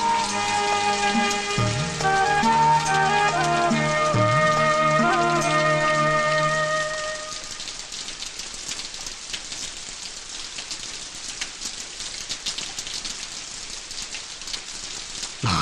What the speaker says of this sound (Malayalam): നാശം, ഈ മഴയും തോരണില്ലല്ലോ.